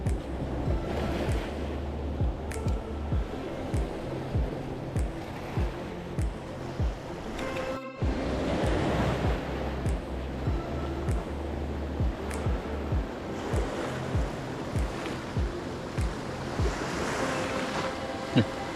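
Ocean waves wash onto a beach at high tide during beach fishing, a steady roar of surf with rhythmic surges and gusty wind noise on the microphone, heard close and continuous throughout.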